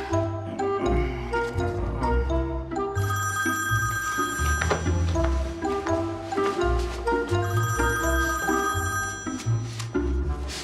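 A telephone bell rings loudly and repeatedly as a call is placed, its bright jangling rings filling the whole stretch with brief gaps between bursts, no talking.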